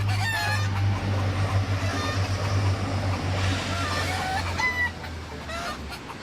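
A white rooster crows repeatedly among brown and white hens clucking nearby, with a steady low hum running underneath the birds' calls throughout.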